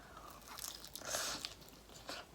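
Close, crisp crunching of teeth biting into golden, crunchy-shelled pizza rolls, followed by a few crackly chewing bites, with no talking.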